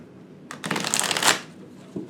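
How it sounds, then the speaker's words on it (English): A quick riffle of playing cards being shuffled, a fluttering burst lasting under a second, close and clear, followed by a soft tap. "So we're just going to shuffle a few times."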